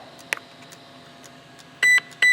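A Hobbywing QuicRun 10BL120 G2 brushless ESC in a Traxxas Rustler powers up with its set button held, giving a few faint ticks and then two loud, clean electronic beeps close by.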